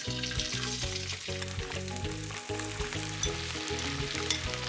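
Leftover rice with kale and shallot frying in hot oil at around 350 degrees, a steady bright sizzle running continuously under a backdrop of music, with no voices.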